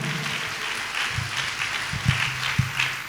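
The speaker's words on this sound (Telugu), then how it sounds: "గట్టిగా గట్టిగా చప్పట్లు కొడదాం" A church congregation claps together during a worship service, a dense, steady wash of many hands that swells with a few sharper peaks, heard fairly close.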